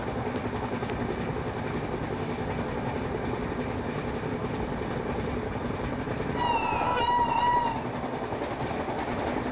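Passenger train in the Trainz Simulator game running past Odina station, a steady rolling rumble with clickety-clack and a brief squeal or horn-like tone near the end.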